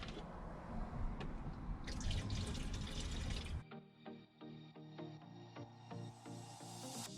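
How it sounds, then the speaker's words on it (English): Liquid bleach poured straight from the bottle while cleaning out a camper van, a steady splashing gush that cuts off abruptly partway and gives way to quieter dripping and trickling. "I don't measure out my bleach. I just pour, and whatever feels good,"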